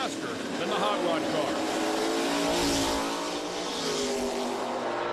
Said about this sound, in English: You can hear them whomping the throttle down there at the other end, trying to make sure they don't break out.